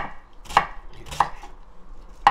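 A knife cuts through cucumber for Korean stuffed cucumber kimchi, three separate crisp chops spaced about half a second apart, each a sharp thunk on a cutting board, close and alone.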